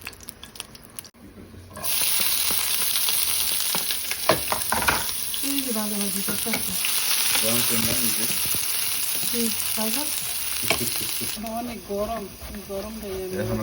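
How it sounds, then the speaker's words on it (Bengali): Chillies sizzle and fry in a pan of hot oil on a home stove, a steady close crackle that starts after a short quiet moment, with someone talking over it throughout. "মরিচগুলো ভাজা হলে পরে পেঁয়াজ দিই"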